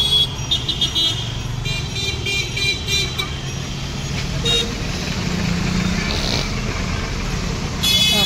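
Street traffic on a city road while crossing on foot: a steady broadband rumble of passing cars and vehicles with a car horn tooting now and then, close by and fairly loud, with no talking.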